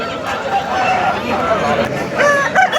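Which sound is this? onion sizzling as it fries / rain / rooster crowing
rooster crowing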